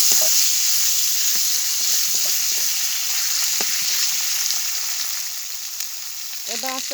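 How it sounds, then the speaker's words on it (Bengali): Ginger-garlic paste and winter vegetables fry in oil with a steady, close, loud hiss and sizzle, broken by a few light stirring scrapes and a brief bubbling spatter near the end. "এরপর দিয়ে দেবো 1 চা চামচের মতো আদা রসুন বাটা। এটা একটু তেলের সঙ্গে ভেজে নেব।"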